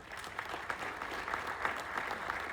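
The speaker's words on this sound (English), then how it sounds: "Can you clap for yourself?" Audience applause at a TiECon motivational talk, a steady wash of many hands clapping together from a crowd, fairly even throughout with no voices standing out.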